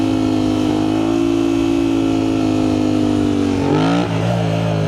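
A motorcycle engine held under steady throttle through a wheelie, a loud, close, sustained drone that dips and shifts pitch near the end as the throttle is eased, with no talk.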